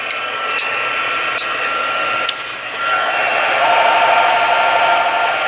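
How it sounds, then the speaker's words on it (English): An embossing heat gun, used for card making, blows a steady, loud, airy whoosh with no talk over it, its pitch shifting slightly about halfway through. "And let's turn on the heat tool."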